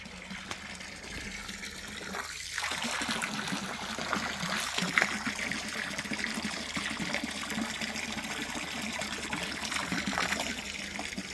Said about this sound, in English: Stick a pump in here and let it pump out.